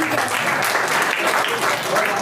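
An audience claps steadily throughout, a dense, even patter of many hands applauding a child's recitation at a Republic Day gathering.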